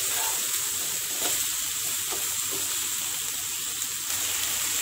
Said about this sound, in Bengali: তো ফুলকপিগুলোকে আমি ভেজে নেব।